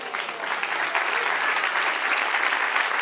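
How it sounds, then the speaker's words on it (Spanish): A church congregation applauds during a Bible class, a steady dense wash of many hands clapping at once that is loud and continuous throughout. "Denle otro aplauso al Señor."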